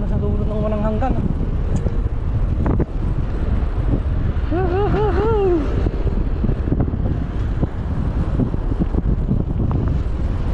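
Wind buffets the microphone in a steady, rough rush that lasts throughout, with a few brief tonal calls rising above it.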